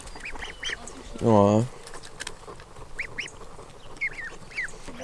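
A duck gives one loud, throaty quack midway through while someone calls to ducks outdoors; faint bird chirps sound sporadically in the background and a short voiced exclamation is heard.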